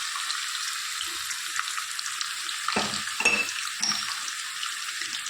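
Fried rice being stirred in a hot pan after fried rice masala, turmeric, asafoetida and coriander-cumin powder go in: a continuous sizzle with a few scraping stir strokes near the end.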